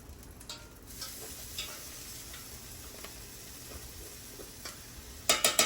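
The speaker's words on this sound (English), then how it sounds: "my beans are simmered, they're hot. I'm just letting them kind of, let me get some of the moisture off them so they thicken" Refried beans simmering and sizzling softly in a pan while being stirred, with a steady low bubbling hiss, scattered scrapes and taps, and a few louder clinks of the utensil at the end.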